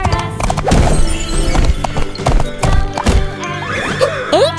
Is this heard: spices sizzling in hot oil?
no